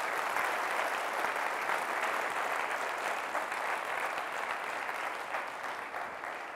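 Church congregation applauding loudly during a sermon, a thick steady wash of many hands clapping, continuous and even, tapering slightly toward the end.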